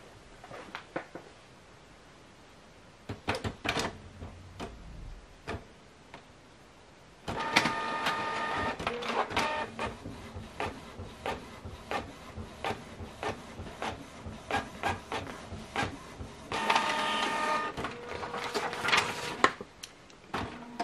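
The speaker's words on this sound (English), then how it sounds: "Test print will perform to check the printer operation." A Canon printer whirs and clatters through a test page, a run of mechanical clicks and feed noises, steady and close, with brief quieter handling sounds at the start.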